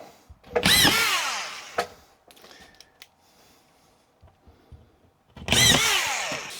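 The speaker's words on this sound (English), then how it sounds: "You just put your screw on it and push, and it will drive it in and stop spinning the motor as soon as it bottoms out." A corded screw gun drives screws into drywall in two sharp, loud bursts of motor whine, one near the start and one near the end. Quiet handling clicks and shuffling fill the gap between them.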